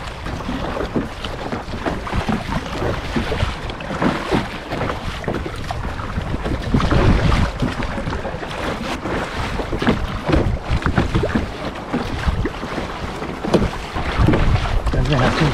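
Kayak paddling on the open sea near Filfla, Malta: continuous wind buffeting and water rush, with repeated paddle strokes splashing close by and voices heard now and then.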